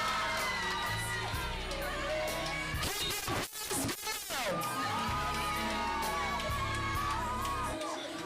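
Crowd of children and adults cheering and whooping at a primary school exit ceremony at Clonmel Primary and Infant School, a sustained loud roar with shouts and yells over music, briefly dipping midway before swelling again.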